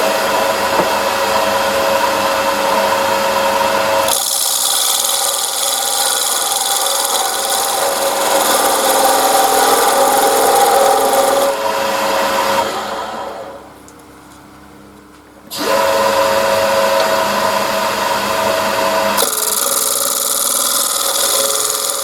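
Power tool cutting tenons on the ends of wooden pieces for a weapon rack, a loud steady rasping whine running in long continuous stretches, dropping away briefly midway before resuming.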